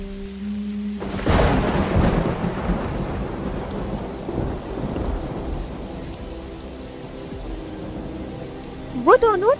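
Heavy rain pours steadily in a cartoon while a loud thunderclap breaks early and rumbles away, with a short tonal sound near the start and a brief voice-like burst at the end.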